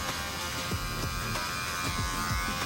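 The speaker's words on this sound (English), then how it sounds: "I'll take my clipper, open it all the way up, and I'll create a line just above this skin line" Electric hair clippers buzz continuously up close while cutting a mullet fade above the skin line, with a steady hum and faint snipping texture.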